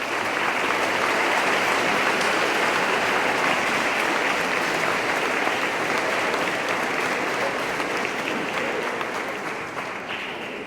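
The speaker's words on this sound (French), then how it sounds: "Vous pouvez applaudir." Sustained, dense applause fills a church during a First Communion mass, steady and loud for the full duration before tapering slightly at the end.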